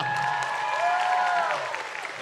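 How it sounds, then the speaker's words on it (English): An audience applauds steadily for a couple of seconds, with a tonal sound running beneath the clapping. "Please clap."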